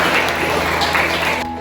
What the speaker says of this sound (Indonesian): terima kasih tepuk tangan untuk dua teman kita yang sudah hadir